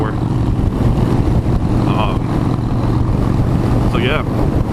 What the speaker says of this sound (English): that wind just hit me out of nowhere.